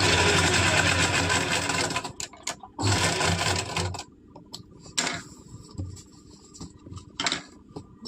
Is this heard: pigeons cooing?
no